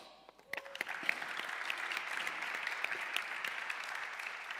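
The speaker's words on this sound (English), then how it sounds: "Please, everyone, give a big applause also for our YouTube crowd." Lecture-hall audience applauding at an arts and technology symposium: steady, dense clapping from many hands that builds quickly after a few scattered claps and continues evenly throughout.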